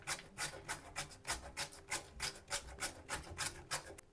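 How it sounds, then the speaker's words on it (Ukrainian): Repeated rasping strokes of a carrot being grated for salad, about three per second in a steady rhythm, close and moderately loud with no talking. "натираю морку"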